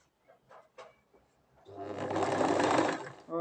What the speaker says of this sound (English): It's nice and full, so I can get started on my sewing.